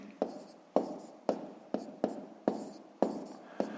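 A pen or pencil writes out column multiplication of 27 by 27 on paper, a steady series of short scratchy strokes roughly every half second, close and quiet, with no voices.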